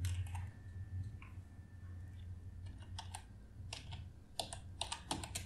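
Keys clack on a computer keyboard in a quiet room, a few scattered taps at first, then a quicker burst of close, crisp keystrokes near the end.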